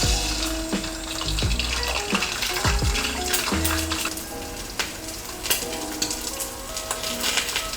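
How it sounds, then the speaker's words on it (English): An egg fries in a pan over medium-high heat, a loud, steady crackling sizzle with scattered pops and clinks of utensils on the pan. "over medium-high heat, I'm gonna make a fried egg"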